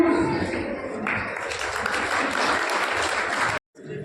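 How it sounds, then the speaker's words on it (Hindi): Audience applause welcoming children after a performance at a Lions Club Sujangarh felicitation event, a dense sustained clapping that swells after the first second, then cuts off abruptly near the end. "जोरदार तालियों से स्वागत करें हमारे बच्चों का।"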